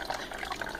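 Liquid poured into a homemade slime mixture in a container, a short steady watery pour with no talk over it.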